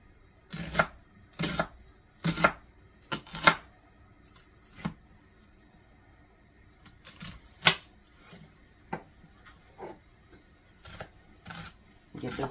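A knife dices onions for beef stroganoff on a board, making sharp, irregular chopping knocks that come in short clusters with pauses between them.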